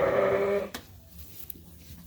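A single close sheep bleat on a farm, loud and wavering for about half a second, then dropping to quiet barn ambience with a couple of faint knocks.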